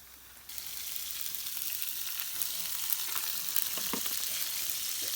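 Food sizzles and crackles steadily in hot fat on a griddle over a wood fire, a constant bright hiss with occasional sharp pops, close by and without talk.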